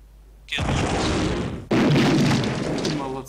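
Two heavy booming gunshots in the video game Incubation: Time Is Running Out, each followed by a long rumbling decay, the second one louder and closer.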